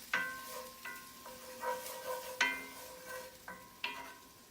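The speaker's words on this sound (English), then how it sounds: "Can you mix the onions? Make sure it's not burning." Onions and garlic are stirred in a frying pan over the lowest heat, giving a series of sharp utensil clinks and scrapes every second or so over a faint, steady sizzle.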